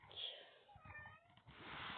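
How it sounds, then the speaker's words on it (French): A cat meows a few times in a drawn-out, mid-pitched way, fairly close and clear, with some faint background noise and a brief voice-like sound underneath. "Pourquoi miaules-tu?"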